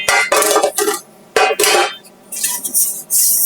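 Small metal and white cookware pans clatter and scrape in a home kitchen during cooking, several sharp bright clanks in irregular bursts, close and loud, no talk.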